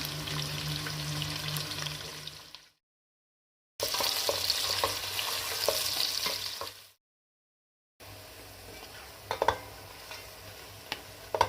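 Steady sizzling of three onions frying in a pan for hari mirch keema, with occasional stirring scrapes, broken by two short silent gaps.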